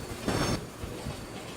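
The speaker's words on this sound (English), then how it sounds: "Here comes the train." A train rolls past in the Roblox game Rails Unlimited, a steady rumbling wash of rail noise with a brief louder burst early on, continuous and moderately loud with no talking.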